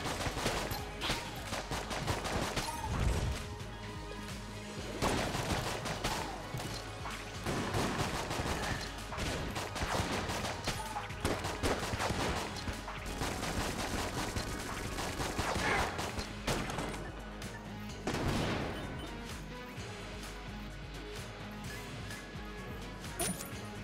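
Dense, rapid gunfire from the Enter the Gungeon video game, with bursts of shots and crashes firing almost nonstop in loud, overlapping volleys throughout.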